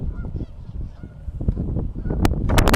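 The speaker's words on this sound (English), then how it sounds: "I am seeing a lot of geese eating." Geese honk loudly and up close, a dense overlapping chorus of harsh calls that grows busier toward the end, with no talking over it.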